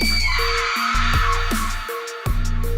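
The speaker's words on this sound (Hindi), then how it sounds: "खूनी भेड़िया जोर जोर से चिल्लाने लगता है।" A cartoon horror wolf howls loudly in a shrill, wavering cry that jumps between pitches with short breaks, delivered close and alone as a dramatic sound effect.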